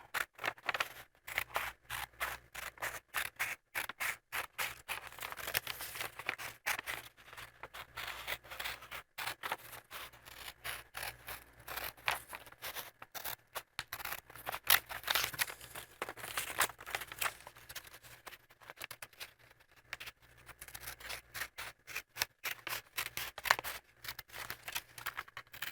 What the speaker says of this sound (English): So take your scissors